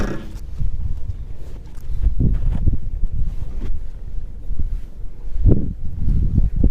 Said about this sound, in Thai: ลมมันพัดนะมันมันไม่ได้พัดทางเดียวนะ เดี๋ยวพัดซ้ายเดี๋ยวก็พัดขวา